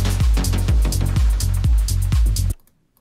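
A loud, punchy electronic beat with heavy kick drums pulses in a steady rhythm, then cuts off abruptly into silence.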